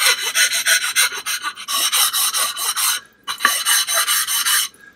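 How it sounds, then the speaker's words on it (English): Rhythmic rasping strokes as the edges and corners of a Naniwa Gouken Arata 10000 whetstone are chamfered on a coarse stone, coming in two steady bursts of back-and-forth grinding with a short pause between, close and loud. "Chamfer the edges and the corners."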